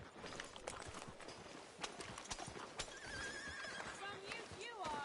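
A horse whinnies in Red Dead Redemption 2 with a rising and falling call near the end, over steady clip-clop hooves and background chatter from a busy game scene.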